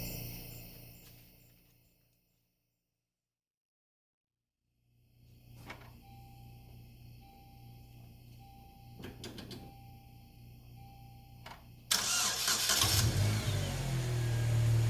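A 2006 Saturn Ion, just fitted with a new fuel pump and sending unit, sits quiet with faint clicks and whirs before its engine catches near the end and runs loudly and steadily.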